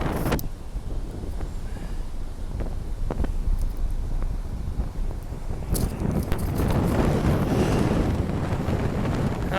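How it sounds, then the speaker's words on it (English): A strong northeast wind, around 30 miles an hour, buffets the microphone at an Atlantic ocean beach with kite surfers, a steady loud roar that grows rougher and gustier toward the end. "the wind's out of the northeast. I'm guessing maybe 30 miles an hour"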